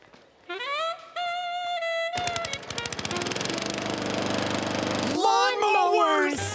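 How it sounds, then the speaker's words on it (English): A cartoon lawnmower engine revs up into a loud, rapid chugging putter that holds steady for several seconds, bracketed by animated vocal sounds before and after. "Lawnmowers!"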